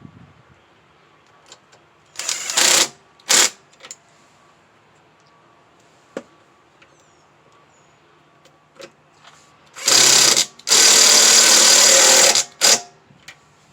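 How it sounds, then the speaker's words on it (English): A power tool spins in short whirring bursts while 3/8 bolts are tightened onto the carburetor of a 6.75 hp Troy-Bilt self-propelled mower, two short bursts then longer loud runs near the end, with faint clicks between. "And then put these 3/8 bolts back on here real quick."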